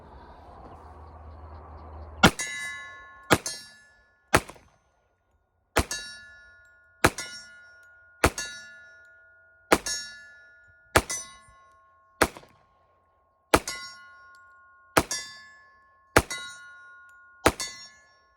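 A Rock Island Tac Ultra 1911 in .45 ACP fires a magazine at steel targets, about thirteen sharp shots each ringing off with a metallic clang, spaced at a steady, slightly uneven pace.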